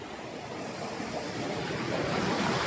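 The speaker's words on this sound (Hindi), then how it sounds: "पानी कैसे बह रहा है" The Chuli river flows past Bedakhadar village in Poshina, heard as a continuous broadband rush of moving water that swells slightly louder toward the end, with no voices.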